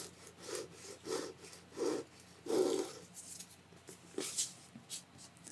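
Scraping at the body of a strange organism: four or five separate rasping strokes in an uneven rhythm, close and fairly quiet, with no voices.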